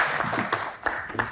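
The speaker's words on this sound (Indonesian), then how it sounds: "kita berikan tepuk tangan sekali lagi untuk Tasya" A few scattered, evenly spaced claps from a TV show studio audience welcoming a guest, brief and fairly close.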